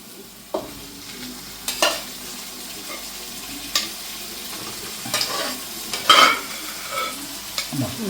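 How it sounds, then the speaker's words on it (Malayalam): Chopped onions drop into hot oil for a chicken curry and sizzle steadily while a spoon stirs them, scraping against the pan in several separate strokes, close and moderately loud. "നമുക്ക് ഈ സവോളയും കൂടെ അതിനകത്തോട്ട് ഇട്ട് കൊടുക്കാം ഇടുവാണേ"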